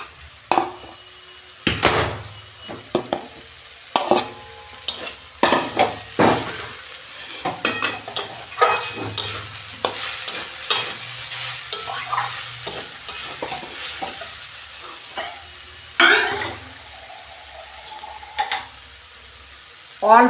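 Fried potatoes are tipped into a pan of papaya curry and stirred, with loud clattering scrapes of a spoon against the pan, a few metal clinks and bursts of sizzling, close and alone.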